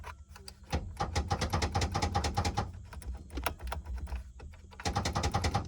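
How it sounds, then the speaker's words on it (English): Dashboard buttons in a Ford Mustang revived after sitting with foliage inside click and chatter in rapid, dense bursts, a fast ticking clatter that pauses briefly and then resumes, close and fairly quiet. "Both those buttons are making noises."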